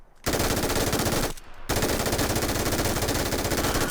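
Automatic gunfire in the battle-royale game PUBG rattles out in two rapid, loud bursts separated by a short pause.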